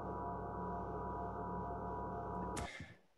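Sonified spectrum of a galaxy dominated by older stars and heavier elements, heard as a continuous layered drone of many held tones that stays level for over two seconds, then stops suddenly with a brief noisy burst.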